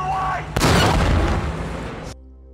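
A tank's main gun fires in a World War II battle scene, a sudden heavy boom with a long rumbling roll that fades after about a second and a half, loud and close.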